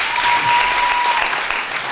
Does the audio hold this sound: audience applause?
yes